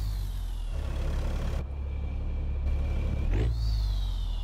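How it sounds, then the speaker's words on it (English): A Caterpillar C12 diesel in a Peterbilt 379 truck in American Truck Simulator rumbles steadily, with a brief hiss like an air brake release mid-clip and a shift in engine pitch near the end. "sporty little engine. It's a C12 from Slav Jerry"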